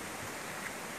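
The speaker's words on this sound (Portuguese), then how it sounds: "E você vai escutando o barulho da água, né?" Water flowing in a forest stream near the Salto São João waterfall in Prudentópolis: a brief, steady broadband rush of moving water, soft and continuous with no voices.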